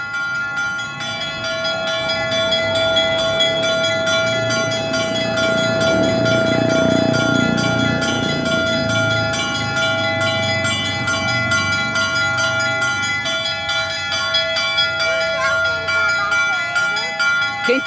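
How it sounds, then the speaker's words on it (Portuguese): A church bell rings at São Benedito Sanctuary, struck by the sacristan, its steady tone sustained and resonant throughout with a low background rumble and faint voices. "Olha o sino batendo lá"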